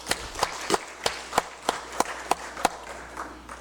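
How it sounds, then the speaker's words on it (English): A small, sparse round of applause in a legislative congress chamber: about eight distinct claps in a slow, even rhythm, fairly faint and fading out toward the end. "So let's give him a round of applause"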